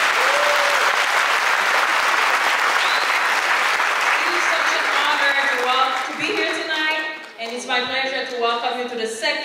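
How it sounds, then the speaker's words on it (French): Loud, dense applause from the audience at the MPAH Movie Award 2012 ceremony, a film awards event of the Motion Pictures Association of Haiti, filling the hall steadily before fading as cheers and voices rise through the last few seconds. "J'aimerais que vous applaudissiez, s'il vous plaît"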